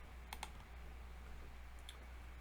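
A few light keystrokes on a computer keyboard, quiet clicks spaced irregularly over a low steady hum, with no voices.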